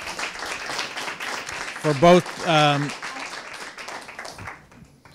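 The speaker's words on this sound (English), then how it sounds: "Another round of applause" Audience members at a breakout session clap for two presenters, a steady patter of applause beneath speaking voices that thins and fades toward the end.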